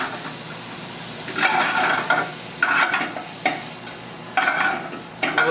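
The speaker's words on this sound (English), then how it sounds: "As this is cooking and reducing down, we're going to add some mushrooms." Mushrooms cooking in a reducing butter sauce for chicken, with bursts of sizzling and spoon-stirring scrapes in the pan, loud and close, repeating every second or so over a low steady hiss.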